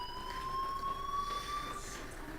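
A fire alarm sounds in the Life is Strange video game, a steady high electronic tone holding throughout, faint and alone.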